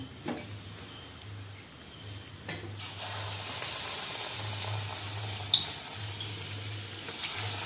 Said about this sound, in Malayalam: ബാക്കിയുള്ള മുളകും അതുപോലെ വറുത്ത് കോരാവുന്നതാണ്